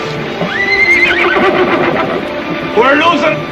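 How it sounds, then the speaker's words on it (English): A horse whinnies loudly and bolts, its neigh rising and falling over shouting voices and clattering hooves as it runs off with a load of supplies in a frontier western scene. "Oh, the horse is getting away."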